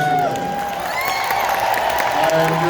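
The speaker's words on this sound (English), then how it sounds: "Listen to the applause." Audience applause and cheering at a fan convention in Denver, a steady wash of clapping with scattered whoops and a held musical tone over it, continuous and fairly loud throughout.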